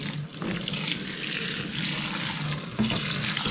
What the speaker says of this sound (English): and then just put in some water